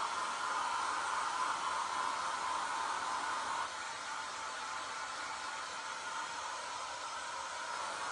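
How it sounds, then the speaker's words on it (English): A blow dryer runs steadily while heating styrofoam for pumpkin and scarecrow decor, a constant airy whoosh at moderate distance that drops slightly in pitch partway through, with no talking. "I think I'm gonna go back to my blow dryer."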